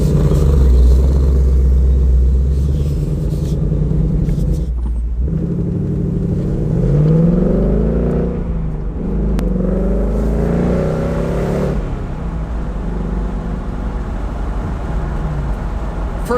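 A Ford Mustang GT convertible's engine rumbles steadily and close by as the car pulls away, with a brief dip in the note before the sound builds through rising revs and then settles into a sustained drive.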